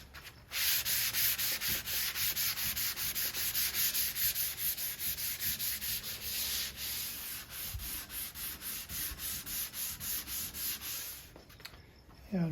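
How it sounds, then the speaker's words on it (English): A walnut dresser surface sanded by hand with 320-grit sandpaper, a close, rhythmic back-and-forth rasping of repeated strokes that continues steadily before a brief pause at the end. "First, I'm going to sand it with 320, and so let's do that."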